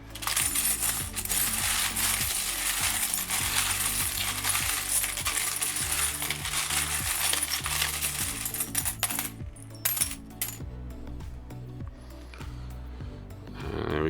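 Pre-decimal coins such as shillings and pennies being drawn during a coin hunt, with continuous loud clinking and jingling as coins are stirred and shuffled together, close up, ending in a few sharper separate clinks.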